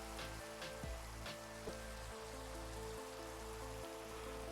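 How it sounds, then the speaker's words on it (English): Rain falls steadily in Minecraft as a quiet, even patter that continues without pause, with a few soft low thumps and faint tonal hums underneath. "The ambiance with the rain is nice, at least."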